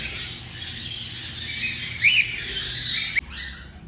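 Birds chirp and twitter steadily in a busy chorus, with a brief louder squawk partway through before the sound drops off abruptly.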